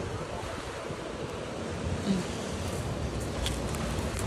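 Sea waves wash onto a beach in Surigao, a steady roar of surf with some wind buffeting the microphone, continuous and fairly close throughout.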